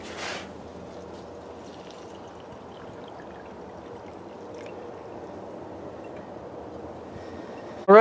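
Yellow creek water pours steadily into a homemade charcoal filter, a soft continuous trickle and splash lasting several seconds at low level, with a brief louder knock at the start and end.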